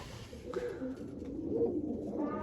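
Pigeons in a loft give soft, low cooing calls, faint and close, with a couple of brief coos over quiet background.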